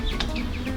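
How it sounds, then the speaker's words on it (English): Silkie chickens cluck softly close by, a few short chirpy calls in under a second over low background noise. "I got silky chickens"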